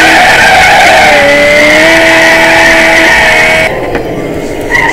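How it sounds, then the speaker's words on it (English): Video game Bugatti Veyron drifting in a burnout, with loud sustained tire squeal and skidding over a revving engine, the screech gliding in pitch before cutting off near the end. "So apparently we're driving a Bugatti Veyron with a motorcycle engine in it."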